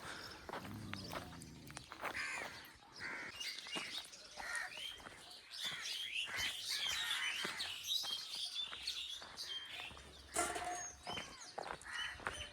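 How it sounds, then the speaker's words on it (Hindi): Many birds chirp and call near an old tribal village on the Narmada riverbank, a dense steady chorus of overlapping tweets with footsteps crunching along the path throughout. "कितने सारे पक्षी बोल रहे हैं।"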